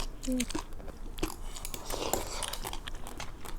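Someone bites into seasoned pickled cucumber (oiji), giving several crisp, close crunches and wet chewing sounds, with talk and laughter mixed in.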